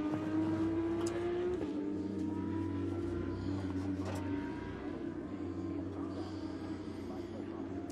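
Porsche Carrera Cup race cars moving down the pit lane during qualifying at Oschersleben, a steady engine drone with a rising whine and a passing revving car, heard under continuous commentary.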